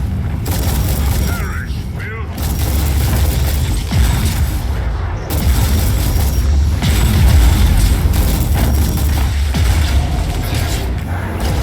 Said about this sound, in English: Artillery strike commencing. Incoming. Blow 'em up.